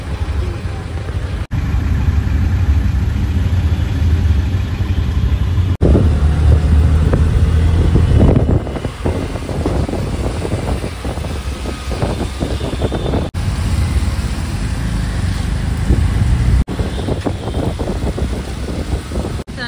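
An auto rickshaw's engine runs throughout a ride on a Mumbai-area street, a loud continuous low rumble with road noise and a few brief bumps and rattles. No voices are evident.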